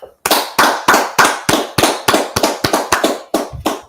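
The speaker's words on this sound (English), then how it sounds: "let's clap it up" A group claps in unison, about a dozen sharp, loud hand claps in a steady rhythm, close and alone without talk.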